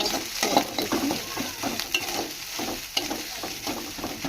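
Ginger garlic paste with onions frying and being stirred in a pan for a pea curry, a close, lively sizzle broken by irregular scraping strokes of the spoon, with no talking.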